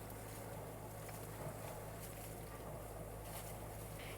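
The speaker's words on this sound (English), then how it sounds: "So we decided to start the motor, something we both hate doing." A sailboat's diesel motor drones at sea on a windless day, a faint, steady low hum with a constant tone and soft water patter, no voices.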